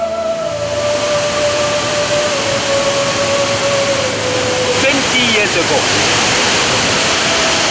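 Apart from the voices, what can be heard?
waterfall on Redang island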